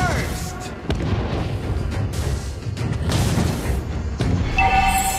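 Lava Burst, Valir's fire explosion skill in the Mobile Legends game, a series of rumbling booms and crackling blasts over about five seconds, with voice lines from game characters, closing on a high ringing tone.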